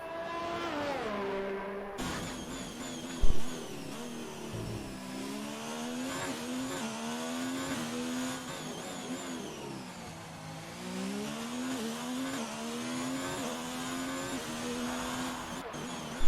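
Race cars lap the Baku street circuit in an Xbox racing game, heard onboard as a continuous high-revving engine whine that climbs and dips through gear changes and corners, close and steady with no talking.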